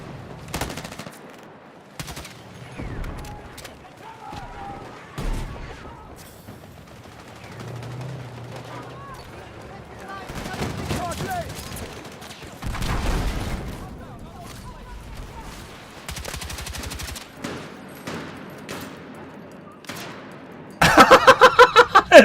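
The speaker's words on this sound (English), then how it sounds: "It's an automated turret." An automated turret fires in Battlefield 6, with bursts of rapid gunfire and scattered shots through a firefight, ending in a sharp burst of automatic fire, while players talk throughout.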